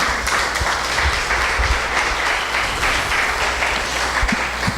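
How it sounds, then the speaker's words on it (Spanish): A church congregation breaks into loud sustained applause, dense clapping filling the room steadily for several seconds with no speech over it. "¿Cuánto le pueden dar un aplauso al Señor?"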